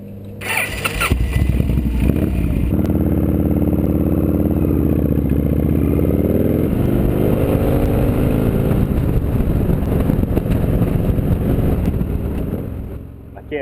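A motorcycle engine is started and settles into a steady, loud idle close by on Oahu's North Shore, with rumbling low tones, some clatter and slight revs throughout.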